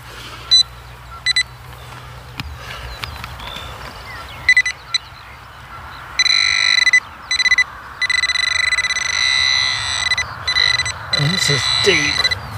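An Equinox 800 metal detector sounds loud, high tones over a UK dig site, first as short beeps, then as longer sustained signals broken by brief gaps.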